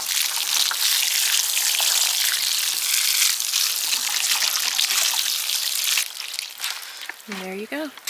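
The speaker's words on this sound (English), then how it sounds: "Water that in." Water pours in a loud steady splashing stream onto soil in a winter sowing seed container planted with beets, then tapers into lighter trickles, and a voice speaks briefly at the end.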